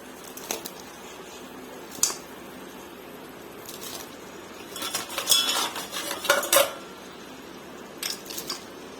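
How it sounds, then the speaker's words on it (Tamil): Crab is stirred into a masala pepper gravy in a cooking pot, a spoon clinking and scraping against the metal in irregular bursts, busiest and loudest midway. "மசாலா எல்லா இடத்துலயும் மிக்ஸ் ஆகிற மாதிரி நண்டை நல்லா கலந்து விட்டுருங்க"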